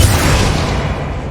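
Defendo shield spell cast in the Hogwarts Legacy video game: a loud, dense burst of low booming energy that swells at once and then slowly fades over a second and a half.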